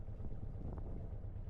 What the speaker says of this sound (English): Very windy indeed.